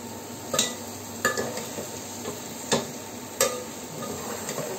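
A spoon scrapes and clinks in a pan while egg masala for anda biryani sizzles, about five sharp taps spaced over a soft continuous frying hiss.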